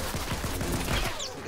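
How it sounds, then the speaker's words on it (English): Fortnite gunfire crackles in a fast, dense flurry of close shots, loud and continuous over the brief moment, with a faint voice underneath. "He's getting shot."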